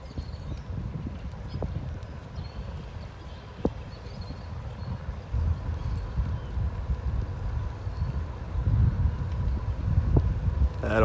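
Wind while biking on an outdoor trail: a continuous low rumble of wind buffeting the microphone, growing stronger toward the end, with occasional faint knocks and rattles.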